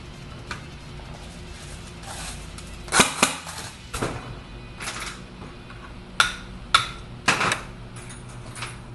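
Airsoft AEG rifle with an ROA adjustable spring guide firing BBs, heard as a handful of sharp separate pops spaced irregularly over steady low background noise, fairly close.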